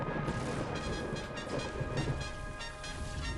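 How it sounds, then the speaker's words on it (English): Thunder effect in the video game Transformers: Earth Wars, a dense sustained rumble with crackling rain-like noise across the full span, steady and loud with no speech. "Love that thunder sound effect."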